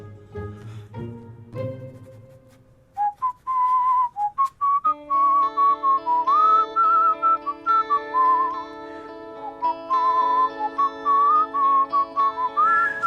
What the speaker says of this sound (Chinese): 口哨吹得真好，是吧？